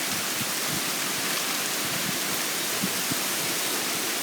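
Very heavy rain pours down steadily during a severe thunderstorm, a dense, even hiss of water with occasional low thumps, close and loud throughout with no talking.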